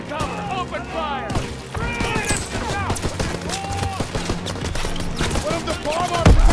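Sustained gunfire and explosions from the WWII shooter Call of Duty: WWII, dense and continuous with overlapping bursts, while voices shout over the battle.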